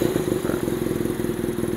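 A BMW R90 boxer-twin motorcycle engine revs steadily, close and loud, with a pulsing throb and a dense low rumble that stays constant through the short stretch.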